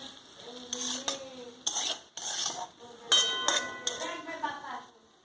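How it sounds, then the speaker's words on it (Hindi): Capsicum is stirred into soya chilli in a pan, a spoon scraping and clinking against metal in irregular bursts over a soft sizzle, with a voice speaking in between. "अभी हम कैप्सिकम डाल देंगे। इसको हम अच्छे से मिक्स करेंगे।"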